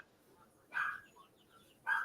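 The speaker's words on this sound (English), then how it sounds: "Their outside dogs are barking, so it's got her barking." Outdoor dogs bark in two short yelping bursts at a distance, faint over a quiet background.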